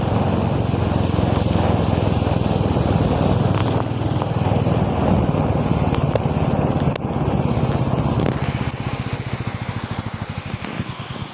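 A motorbike ridden on the way to a petrol station, with a steady, close engine drone and wind rumble throughout, the engine note easing slightly in the last few seconds.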